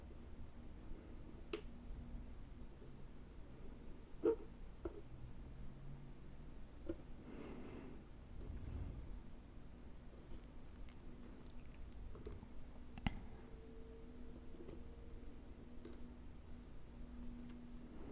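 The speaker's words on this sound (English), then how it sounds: "sort out sea glass by color" Sea glass pieces are sorted by color with tweezers, soft sparse clicks and light taps of glass and metal, very quiet and close, with faint rustles between them.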